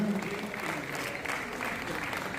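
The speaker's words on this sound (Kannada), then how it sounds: "ಜೋರಾದಂತಹ ಚಪ್ಪಾಳೆಯ ಮೂಲಕ ನಾವೆಲ್ಲರೂ ಉದ್ಘಾಟನೆ ಕಾರ್ಯಕ್ರಮಕ್ಕೆ ಸಾಕ್ಷಿಯಾಗೋಣ" Loud, steady applause from an audience fills the hall at the inauguration of the 20th Kannada literature conference, sustained without a break and with no voice over it.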